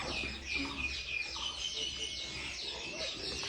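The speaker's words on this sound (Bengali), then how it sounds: "হরজত মুরগির সাথে খেলতেছে।" Chickens cluck and call close by, with repeated short calls over a steady background murmur.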